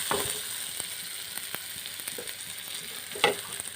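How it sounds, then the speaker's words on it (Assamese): Pieces of previously fried fish stirred into softened onions in a hot pan, a quiet continuous sizzle with occasional light spoon taps and one sharper scrape near the end, no talking. "আগতে ফ্ৰাই কৰি থোৱা মাছ দি দিছোঁ। ভালদৰে লৰাই লৈছোঁ।"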